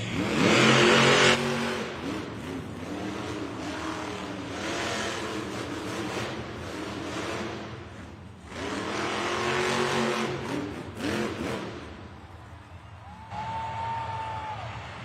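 Monster truck engines at the start of a Monster Jam race in an indoor arena, loud revving surges that rise and fall over a rumbling crowd-filled space, then settle toward a quieter tone.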